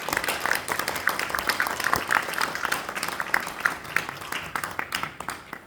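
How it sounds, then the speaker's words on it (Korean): Sustained applause from an indoor audience at a Christian workplace missions conference, welcoming a university president to the lecture stage; dense, steady clapping fills the whole stretch at moderate distance, with no pause. "여러분 큰 박수로 맞아주십시오."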